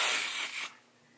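Shimmer body spray aerosol spritzed onto bare skin of the chest, one continuous close hiss that runs for about two-thirds of a second and then cuts off sharply, leaving quiet.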